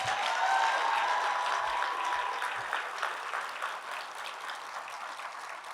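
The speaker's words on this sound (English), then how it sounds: "Let's give another round of applause for all of our recipients." Audience at a scholarship awards celebration gives the recipients a sustained round of applause, steady and fairly soft, with the clapping slowly thinning toward the end.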